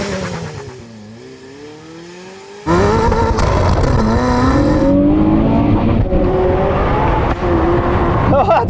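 A 1200hp hypercar sits idling, then launches hard from a standstill at close range with a sudden loud roar, its engine climbing through rising revs with wheel spin, with speech over the engine.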